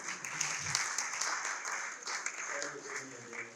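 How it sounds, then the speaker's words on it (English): An audience at a breakfast meeting gives a round of applause, a sustained wash of clapping heard fairly faintly. "Let's give one round of applause."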